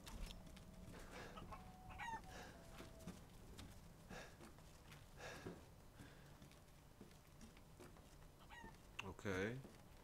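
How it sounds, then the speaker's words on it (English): Chickens cluck and a rooster crows softly in the Resident Evil Village video game, faint and scattered among eerie ambient game noises, with a louder squawk near the end. "I hear some chickens."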